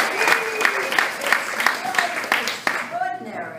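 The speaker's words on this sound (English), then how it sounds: "Round of applause for that." A short burst of clapping from a small group, rhythmic and fairly close, with cheering voices mixed in.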